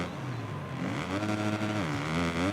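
A motocross bike engine in the MXGP Pro video game revs continuously, its buzzing tone sweeping up and down in pitch as the throttle changes, loud and steady with no speech.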